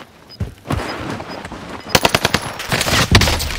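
Rapid automatic gunfire in a battle-royale video game, with a few scattered shots at first and then a dense, close burst of fast machine-gun fire with sharp cracks and echoing tails, no talking.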